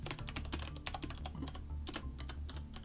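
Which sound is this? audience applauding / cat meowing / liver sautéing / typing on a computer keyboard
typing on a computer keyboard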